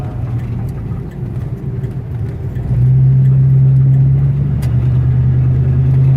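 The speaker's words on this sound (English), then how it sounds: "Nice Camaro. See, it shifted there. I just don't like the way it shifts." A restored 1967 Camaro convertible is heard from inside while driving. The engine drones steadily, then its note jumps and grows louder and stronger as the transmission shifts gear partway through.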